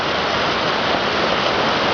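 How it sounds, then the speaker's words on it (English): The Jordan River, just north of Beit Saida and swollen by recent heavy rain, gushes toward the lake in a loud, steady, continuous rush of water with no voices. "This is the mighty Jordan River flowing down to the lake."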